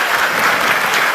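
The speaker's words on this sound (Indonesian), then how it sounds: "tepuk tangan buat PT Graha Benua Etam" A brief, loud burst of crowd applause at a religious gathering of a congregation, thick overlapping clapping from many hands lasting about a second.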